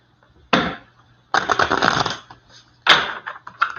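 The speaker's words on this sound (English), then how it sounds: "I'm going to start shuffling the cards." Tarot cards being shuffled during a live reading, heard as three separate bursts of riffling and slapping card noise, close and moderately loud, with short quiet gaps between them.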